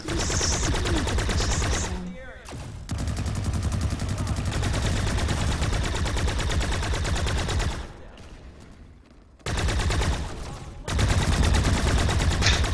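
A weapon in the online shooter PlanetSide 2 fires long, rapid automatic streams of loud shots, broken by a couple of short pauses before the firing resumes.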